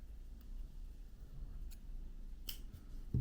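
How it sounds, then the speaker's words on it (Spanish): Scissors snip through crochet yarn once, a short, crisp cut heard close up in a quiet room with no one talking. "cortamos nuestra hebra"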